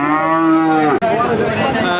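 A cow bellows at a busy cattle market selling Friesian bulls, a single loud, drawn-out moo close by that fades after about a second, followed by the din of the crowded market.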